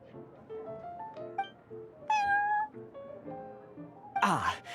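Prince, a cat in Genshin Impact, gives a few short meows, the clearest drawn-out one in the middle and a sharper cry near the end, above a soft background.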